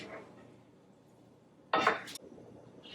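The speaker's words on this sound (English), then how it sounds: "And this is just me stirring it up." A spoon scrapes and clinks briefly in a pan of stuffed pepper filling, one short bright burst of stirring in an otherwise quiet kitchen.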